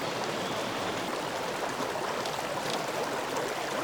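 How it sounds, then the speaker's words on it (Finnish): A mountain river in Japan rushes over rocks in a steady, dense roar of flowing water, close and even throughout, with no voices. "Siellä on kyllä hieno joki."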